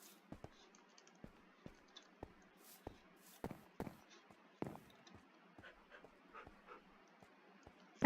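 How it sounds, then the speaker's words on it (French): A dog in a modded video game pants and whimpers softly. Short sharp clicks and taps come at irregular intervals through the quiet, with no talk. "Il est con ce chien."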